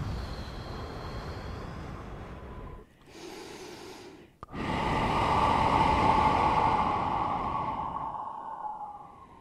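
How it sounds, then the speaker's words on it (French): One slow guided breath in a meditation session: a long, audible inhale, a brief pause, then a fuller, rushing exhale that fades out. "Une respiration."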